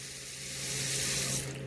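A face being washed under running tap water, a steady rushing stream of water that swells slightly, then fades, heard alone with no talk.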